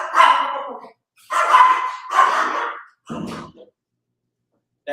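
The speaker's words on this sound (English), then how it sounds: "a small one barking all the time" A small dog barks close and loud in a quick series of four sharp yaps, separated by short pauses, with nothing else heard.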